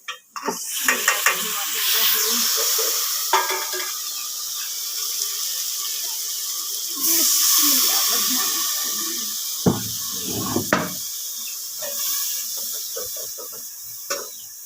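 Spices being fried with browned onions in a pan in a village kitchen, with broadband hissing and scraping, clattering utensil knocks throughout, and brief thuds near the end.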